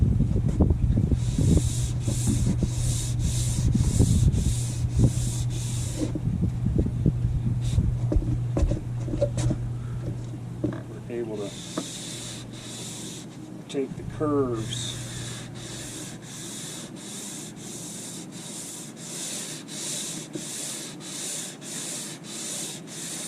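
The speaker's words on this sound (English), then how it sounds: "Basically using a 3M pad with some 180 grit." A teak rail on a Hatteras yacht is hand-sanded with a 3M pad and 180-grit paper. Close, rhythmic rasping strokes pause midway while someone talks, then resume in even back-and-forth passes.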